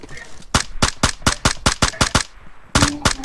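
Rapid bursts of video game gunfire, about a dozen sharp shots in a steady rhythm with a short pause before a final cluster, loud and close.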